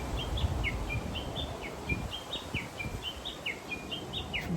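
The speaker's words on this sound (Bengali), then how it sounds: "হাঁটার সময় পাখির যে সুন্দর শব্দ" Small birds sing repeated high, sweet chirps and short whistled phrases in a quick, regular rhythm, fairly close, over soft outdoor background noise during a walk in nature.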